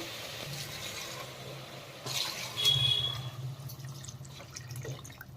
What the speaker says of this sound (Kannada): ಅಕ್ಕಿ ನೀರು ಅಳತೆ ಮಾಡಿ ಹಾಕೋಣ